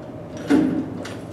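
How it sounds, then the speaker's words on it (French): Stage doors close in a theatre performance of Pelléas et Mélisande, producing a single muted sliding thud with a soft scrape, followed by a faint second knock, fairly quiet against the room. "Oui, on ferme les portes."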